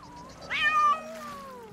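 A single drawn-out cat meow from the pirate video game Sea of Thieves rises then slides downward over a soft ambient background, fairly close and clear.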